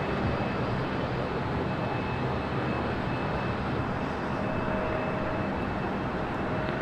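A Southwest Boeing 737-700 jet in special livery at Los Angeles International Airport, producing a loud, steady, broadband engine roar that holds constant throughout, heard alone without talk.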